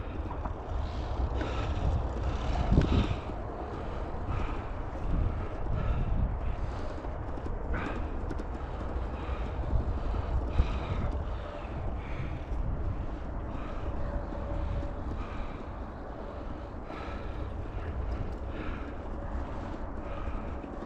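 Wind blows across a rough rural tractor-track road in Southern Illinois at sunset, a loud, buffeting rumble on the microphone that gusts unevenly throughout.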